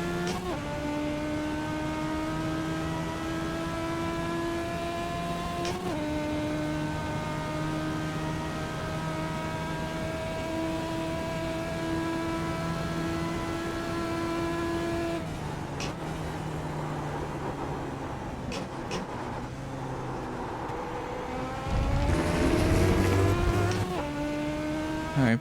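Engine of a race car in a driving video game holds a steady high drone, with several sharp gear-shift drops and shifting pitch, then a louder burst of revving and tire noise near the end.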